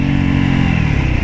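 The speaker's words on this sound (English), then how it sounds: "Around them, engines are still running." Several motorcycle engines idle and rumble loudly and close by at a wilderness scene, a steady low throbbing with no voices over it.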